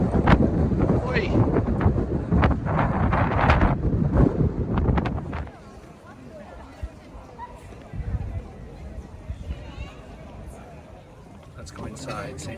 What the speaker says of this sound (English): right now it's super windy up here